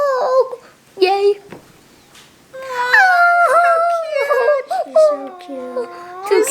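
A small golden puppy whimpers and whines in high, wavering cries, close and loud, mixed with children's excited voices.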